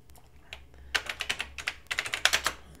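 Keys on a Color Computer 3 keyboard clack in quick, irregular bursts of a dozen or so strokes, close and crisp against a quiet room, with no voices.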